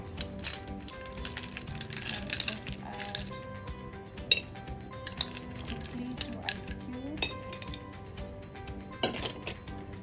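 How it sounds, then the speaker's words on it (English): Ice cubes dropped into a drinking glass for a basil drink, giving scattered bright clinks and clatters against the glass, fairly close but soft, with faint kitchen noise underneath. "And after this, your ice cubes."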